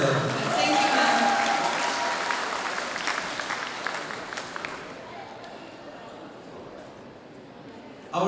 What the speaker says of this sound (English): let's give one more round of applause for Miss Lucy Silo.